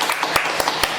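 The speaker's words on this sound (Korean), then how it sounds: "그래서 예수님의 보혈을 주신 하나님께 우리 큰 박수로 영광의 박수를 올려드리도록 하겠습니다" Church congregation clapping during a sermon, a dense run of hand claps with a few sharper accented claps standing out, close and fairly loud, steady through the whole moment.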